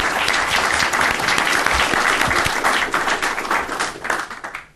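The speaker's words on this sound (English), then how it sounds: "Let's give them a round of applause for a great comment" Audience applause thanking speakers after a talk on unconventional gas and energy markets, a loud, dense round of clapping that holds steady and then tapers off at the end.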